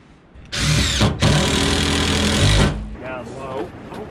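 A power drill drives long exterior screws into a 2x4, with two loud, close bursts of whining motor and grinding, a brief pause between them, then quieter handling sounds afterward.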